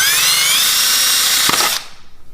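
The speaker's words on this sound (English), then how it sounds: "Drill your first hole there." A power drill whines at high speed as it bores a hole through a plastic bottle, a close, steady buzz that ends abruptly after about two seconds.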